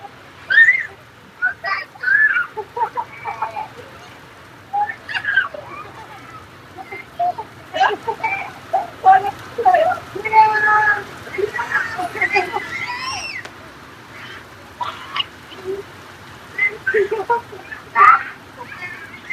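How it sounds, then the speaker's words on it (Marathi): Heavy monsoon rain pours in a steady, continuous hiss that runs through the whole clip, with frequent short, bright chirping calls breaking over it in irregular bursts. "मुसळधार पाऊस पडलाय."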